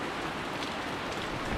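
Afternoon rain in Bali pours down as a dense, even hiss of drops striking surfaces. It stays loud and close throughout, with no voices.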